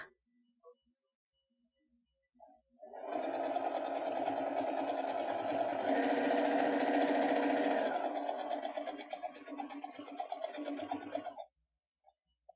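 Sewing machine stitching fabric in one continuous run of about eight seconds, a loud close mechanical whir with a rapid needle chatter, with brief handling noises before and after.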